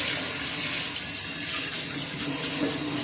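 Tap running warm water to rinse a stainless steel rice cooker pot, a steady hissing stream with faint splashing against the metal, close and uninterrupted.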